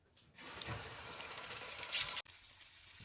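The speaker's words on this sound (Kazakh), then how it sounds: "қызып тұрған майға салып қуыратын боламыз" Battered chicken wings dropped into hot oil, a dense, loud sizzle that starts suddenly and runs for about two seconds before cutting off to a quieter hiss.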